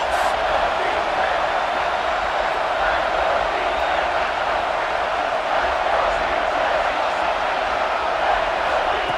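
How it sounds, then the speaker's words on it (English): A college football stadium crowd roars on third down, a dense, loud, sustained wall of cheering and yelling that holds steady throughout with no break. "3rd down, and this crowd is bringing down the house"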